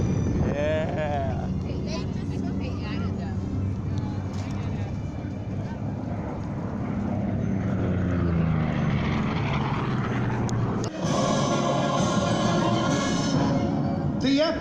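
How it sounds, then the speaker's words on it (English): A propeller-driven Spitfire warplane roars past at a military airshow, a loud sustained engine drone with shifting pitch while an announcer speaks over the public address. "The Spitfire being flown by Warren Beach"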